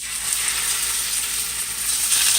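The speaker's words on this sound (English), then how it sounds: "Okay, time to get this fish going." Salmon fillet frying in a hot, lightly oiled red skillet, giving off a steady, bright sizzle that holds loud and even throughout, with no talking.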